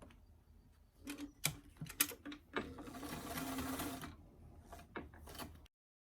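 Sewing machine stitching the crown seam of a doll hat, quiet bursts of rapid mechanical clatter with short pauses between runs, close and fairly faint, with no talk.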